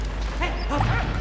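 A dog in the World War I video game Valiant Hearts gives a short bark or yip, two or three quick calls over a steady game background, with no one talking.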